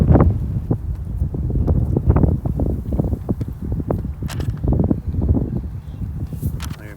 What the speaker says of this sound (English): This wind has been ever present and gusting yet again.